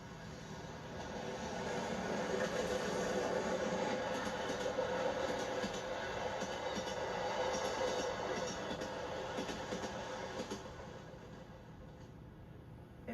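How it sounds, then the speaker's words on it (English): The Glacier Express rumbles up a Swiss valley, a continuous rolling train sound that swells in the middle and eases toward the end, with faint voices in the background. "The Glacier Express continues on its way up the valley"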